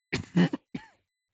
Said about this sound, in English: starting this video off strong with a nice little cough going on there